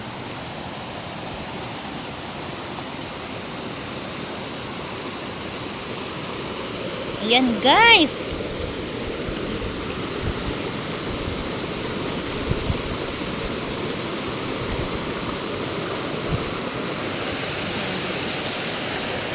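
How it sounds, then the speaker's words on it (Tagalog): A river in a forest rushes in a steady broadband wash that continues throughout. One brief spoken phrase sits over it. "ayan yung ilog dito ayan kaso hindi siya malinis hindi siya pwedeng paliguan"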